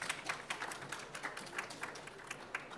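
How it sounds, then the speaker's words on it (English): An audience claps for a panel of women at a COP29 climate science event, a steady patter of many hands filling the room at moderate loudness, with no voices over it. "Big round of applause for these ladies."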